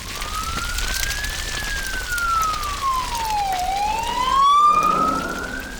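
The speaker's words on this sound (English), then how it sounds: "look, there's a fire engine." A fire engine siren passing close by outdoors, its loud wail sweeping slowly up and down in pitch over steady road noise, with a faster warble creeping in near the end.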